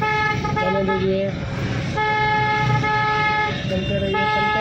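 Vehicle horns blare in busy road traffic, loud sustained honking tones that overlap and briefly break off before starting again, close by.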